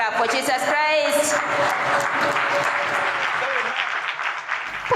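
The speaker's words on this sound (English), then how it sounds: "Clap for Jesus Christ." A church congregation claps for Jesus Christ during a healing service, sustained applause with a voice and tonal sounds over it at first, steady and fairly close.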